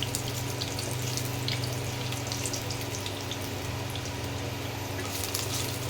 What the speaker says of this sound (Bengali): দুটো শুকনো লঙ্কা আর 2টো দারচিনি ফোড়ন দিলাম।